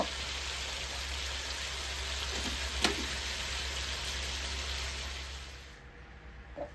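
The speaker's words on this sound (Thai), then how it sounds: "คั่วเครื่องในหมู" Pork offal being dry-fried and tossed with grilled-meat dipping sauce, a faint, even crackling sizzle with one sharp clink near the middle, fading toward the end, with no talking.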